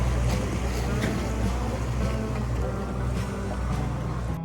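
Steady low engine drone of a canal cruise boat moving slowly through a canal in Giethoorn, Netherlands, with faint water wash and no talking.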